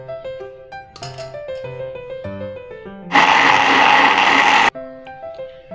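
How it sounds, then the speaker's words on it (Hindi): A blender grinds dates with milk in a burst of dense whirring that runs about a second and a half, then cuts off sharply. Clinks and other small kitchen sounds come before and after it. "इसको हमने अच्छी तरह ग्राइंड कर लिया।"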